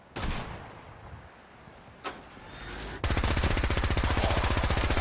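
Automatic gunfire in the Fallout 4 video game: after a quiet stretch with a couple of isolated bangs, a loud continuous rapid-fire burst erupts and rattles on steadily to the end, with no talking.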